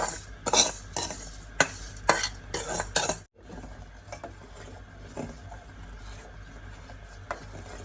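Food is stirred and mixed in a pan with a utensil, producing rhythmic scraping strokes for about three seconds before settling into softer, quieter stirring over a low background.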